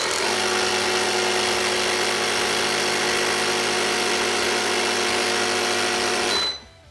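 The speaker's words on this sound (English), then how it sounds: "I'm going to turn on the air here. It's a jumper box with an air compressor." A jump starter box with a built-in air compressor inflating a balloon makes a loud, buzzing mechanical rattle that runs steadily, then cuts off abruptly near the end.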